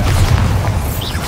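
A Bombarda blast spell in the Hogwarts Legacy video game sounds as a loud, sustained low boom lasting over a second, thick and rumbling with no voices over it.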